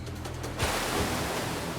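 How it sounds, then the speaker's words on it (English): A water pump on a gold-mining claim runs as a loud, continuous rushing roar while sending water uphill, the noise swelling after a brief quieter start and holding steady with no voices. "right now we've got our water pump fired up. We're just gonna let it warm up here, but it's sending water up to Big Red."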